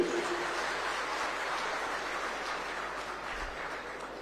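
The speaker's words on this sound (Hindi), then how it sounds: "जोरदार ताली बजाओ सबके लिए" An audience at a Rajasthan political gathering claps, a steady, sustained wash of applause that is fairly faint and even throughout.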